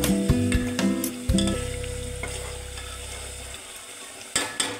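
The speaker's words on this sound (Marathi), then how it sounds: "त्यामध्ये थोडीशी कोथिंबीर ऍड करून घेऊ। परतून घेऊ।" Coriander being sautéed in a pan of pav bhaji masala with homemade chutney, giving a steady close sizzle with a few spoon scrapes and clinks at the start and end, no talking.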